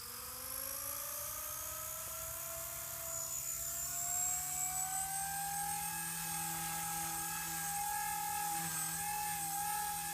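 A 180CFX RC helicopter spools up, its rotor and motor whine rising steadily in pitch over ten seconds, loud and close with a constant whirring drone and no talking.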